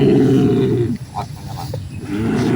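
A tiger roar sound effect rumbles loud and deep, a long sustained growling roar that fades briefly in the middle before swelling again.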